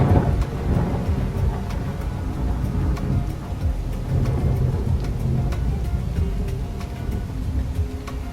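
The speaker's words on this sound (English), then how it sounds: "Let's see what the old E&B rain looks like." Steady rain with low rolling thunder from a video game weather effect, a dense continuous hiss and rumble with faint drops, and no talking.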